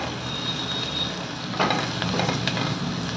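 Chopped onion, cabbage and capsicum sautéing in a pan, a steady soft frying sizzle with a few light stirring knocks partway through, no voices.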